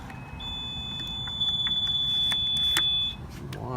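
Gas pump card reader emitting one long, steady electronic beep lasting nearly three seconds, clear and close, over the low hum of a car and the forecourt.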